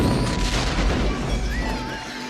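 A deep, rumbling boom with crackling debris spreads and slowly fades, loud and close, as a building explodes and burns in the film Gremlins.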